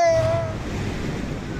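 Large waves pounding the shore at Aparri, Cagayan during Typhoon Marce: a brief, loud rush of surf with a deep rumble underneath.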